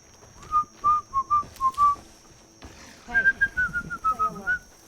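A video game character in Horizon Forbidden West whistles in two short runs of clear, tuneful notes, each run several quick pips, close and distinct over quiet game ambience.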